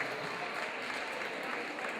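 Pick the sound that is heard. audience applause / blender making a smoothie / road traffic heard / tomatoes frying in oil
audience applause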